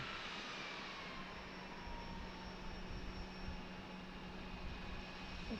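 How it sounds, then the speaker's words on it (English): An Allegiant Airbus A320 jet takes off from an airport runway, its engines a steady, broad roar from a moderate distance with a thin whine on top, holding level throughout without voices. "getting ready for Allegiant to take off for Punta Gorda in the A320"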